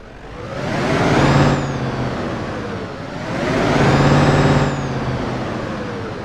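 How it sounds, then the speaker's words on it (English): Scania R770 truck in Euro Truck Simulator 2, a loud, close engine rumble that swells and fades twice, a low steady drone with a rising whine and a hissing air release at each peak, no voices. "let's get our Scania R770 started up and get on the road"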